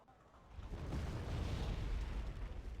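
Artillery fires in the strategy game Wargame: Red Dragon, heard as a deep, rolling boom. It builds over a second and then rumbles on steadily without any voices.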